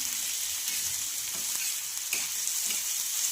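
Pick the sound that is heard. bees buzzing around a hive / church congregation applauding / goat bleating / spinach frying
spinach frying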